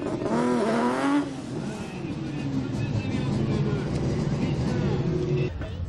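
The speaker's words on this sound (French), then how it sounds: "Les voitures se positionnent sur la ligne de départ et c'est parti pour la course ici à Lavarré." Rallycross race cars at Lavaré in the Sarthe roar off the starting line together, loud revving engines rising in pitch and sustained as the pack accelerates, with a crowd-like din beneath.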